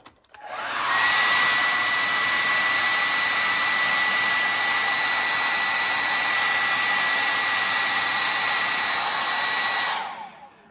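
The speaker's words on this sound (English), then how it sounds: "I've got my mixer down there, my hair dryer, everything's ready to go." A hair dryer blows continuously at a steady, loud pitch for about ten seconds, drying paint on scale model tank road wheels, then switches off.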